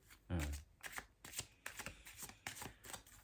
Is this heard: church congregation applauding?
no